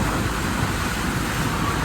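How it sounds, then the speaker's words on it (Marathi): A steady, loud engine drone with broad rushing noise from a ferry boat's engine at Jaigad Port in Konkan, running continuously, with no voices. "इंजिन चालू झालंय"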